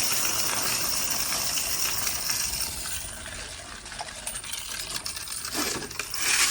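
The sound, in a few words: quarters poured into a coin counting machine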